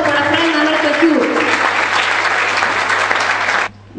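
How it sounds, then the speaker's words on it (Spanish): A crowd claps loudly and continuously at an international storytelling gathering, a steady dense wash of applause that stops abruptly near the end, with a faint low hum underneath. "¡Fuerte el aplauso para Fray Mamertueskiu!"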